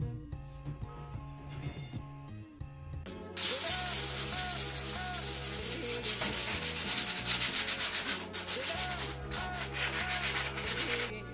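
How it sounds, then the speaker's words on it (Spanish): A badly worn gaming PC case from an old LGA 775 build is sanded by hand. Music plays at first, then from about three seconds in come continuous rhythmic rubbing strokes, loud and close, with the music still underneath. "después de una buena lijadita"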